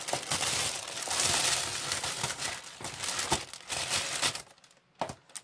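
A package is unboxed for a craft shop order, with its wrapping crinkling and rustling loudly and almost continuously, broken by sharp tearing crackles and ending in a few brief crinkles.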